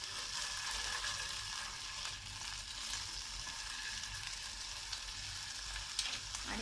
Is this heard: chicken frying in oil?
yes